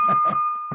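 A short bell tone rings during an online Rotary Club lunchtime meeting, sounding close and steady beneath brief bursts of talk.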